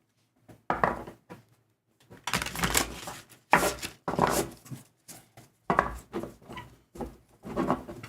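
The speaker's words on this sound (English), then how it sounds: "Let's shuffle these up for Simone." Tarot cards are shuffled in a series of short riffling and rubbing bursts separated by brief pauses, close and fairly loud, with no voices.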